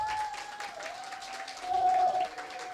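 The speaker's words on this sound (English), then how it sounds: "Rupa Sharma, give a big round of applause" Audience applause at a book launch event, a steady patter of clapping from a gathered crowd that swells briefly near the end, with a faint sustained tone running underneath.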